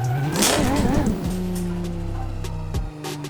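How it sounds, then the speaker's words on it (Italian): A Toyota Supra MKIV's turbocharged engine in a racing video game revs hard and then holds a steady, loud drone, with a brief tire-squeal-like burst at the start and a gear change near the end. "Parto col turbo, senti il suono."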